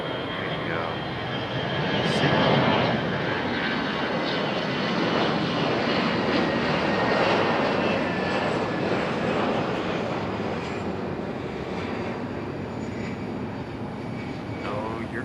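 Broad, steady roar of a Delta jet airliner's engines at Raleigh-Durham International Airport, rising slightly then holding level throughout, with faint talk underneath.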